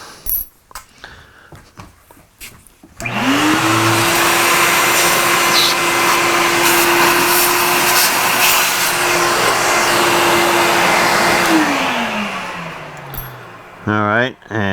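Power tool cutting a half-inch-deep chamfer in metal on a lathe or mill, a loud steady whine that rises at spin-up, holds evenly for about nine seconds, then winds down, with brief clatter before and after.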